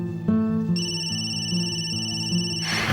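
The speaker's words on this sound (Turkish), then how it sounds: "Telefon." A telephone rings in a Turkish drama scene, a steady repeating electronic ring sounding close and clear, with no talking over it.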